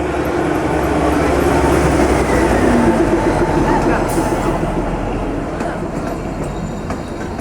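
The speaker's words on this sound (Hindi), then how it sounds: "सामने से कोई एक और ट्रेन आ रही है" Toy train on the Kalka Shimla mountain railway passing close by, a loud continuous rumble and rattle of wheels and carriages that fades slightly toward the end, with a brief squeal partway through and someone speaking over it.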